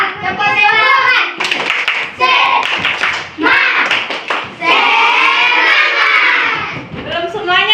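Schoolchildren in a primary classroom perform the rhythmic tepuk semangat clap, sharp bursts of hand claps and patterned taps mixed with their chanting voices, close and loud.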